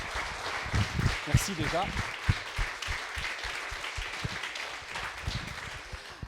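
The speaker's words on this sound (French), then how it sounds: "quelques applaudissements seraient chaleureux à son égard" An audience at a conference on the future of great apes applauds to welcome a guest speaker, a steady crowd clapping that runs throughout, with a voice talking over it.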